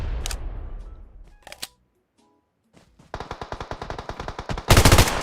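Gunfire in the mobile battle game PUBG Mobile: a loud shot decays, a brief lull follows, then a rapid automatic burst of even, close shots ends in a dense, loud final volley.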